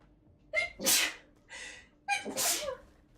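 Two loud, close sneezes, each with a sharp intake of breath before the burst, heard alone against a quiet background.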